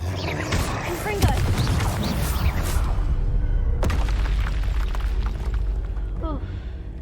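Confringo spell blasts in the Hogwarts Legacy video game land as loud, dense booms and crackling bursts with sharp impacts, filling the whole stretch amid busy combat noise, while voices talk over the action.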